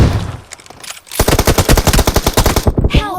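Automatic gunfire from PUBG Mobile, a rapid burst of about fifteen sharp shots in quick rhythm, loud and close, following a brief quieter lead-in.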